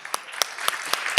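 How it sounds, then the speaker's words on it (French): An audience at a conference opening session applauds the sponsors, with a handful of sharp separate claps standing out over a light patter for just over a second. "Je pense qu'on peut les applaudir."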